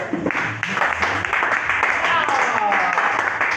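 A church congregation applauds during an evangelist's sermon, with dense, continuous clapping mixed with cheering voices, loud and close throughout.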